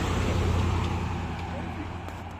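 A truck rolls along a road in Santa Pola, Spain, a low engine and tyre rumble loudest at first, then slowly easing as it passes, with traffic noise around it.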